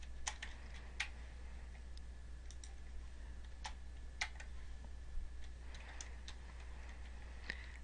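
Computer keyboard keys being typed while entering criteria into a spreadsheet, with sparse, irregular soft clicks and taps spread across the stretch over a quiet low hum, no voices.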